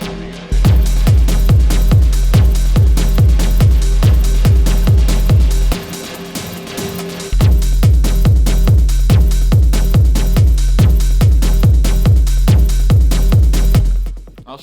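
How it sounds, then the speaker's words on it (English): Simple dirty square-wave synth bass pattern programmed in Ableton for hard techno, a loud driving repeated riff with a steady pulse, dropping out briefly near the middle before resuming until the end. "There we go, it's just a simple dirty bass sound."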